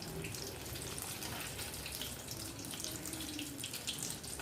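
Steady hissing and crackling of potato mozzarella cheese balls frying in hot oil as the cheese melts, continuous and close, with no voices.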